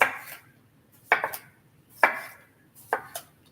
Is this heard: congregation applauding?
no